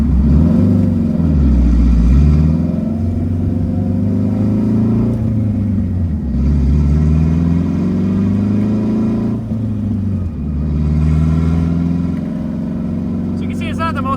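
A turbocharged K20-swapped Honda Civic making about 450 wheel horsepower revs hard through acceleration pulls, its engine note climbing in pitch, dropping at shifts and climbing again, loud and close from inside the car.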